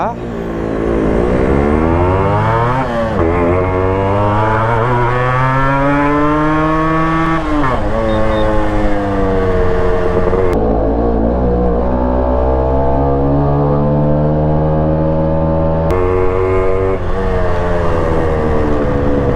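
A Yamaha RXZ two-stroke motorcycle revs and pulls away repeatedly, its engine climbing in pitch with several gear changes, loud and close, with a raspy, buzzing tone throughout.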